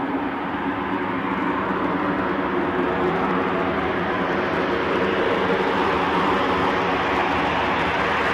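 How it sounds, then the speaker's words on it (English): A loud, steady broadband roar from an aircraft's reverse thrusters after landing at Newcastle airport, heard from a distance without letup. "You can hear the reverse thrusters working from here."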